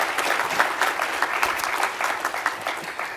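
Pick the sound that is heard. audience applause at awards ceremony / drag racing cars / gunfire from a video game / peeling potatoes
audience applause at awards ceremony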